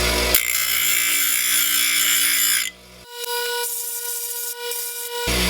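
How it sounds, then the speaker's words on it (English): An angle grinder taking the edge off a bolt: a loud, steady high-pitched whine that drops in pitch as the disc bites, then a brief gap and a second lighter pass with a ringing hum, close up and without talk. "I'll just touch that with a grinder just to take the edge off"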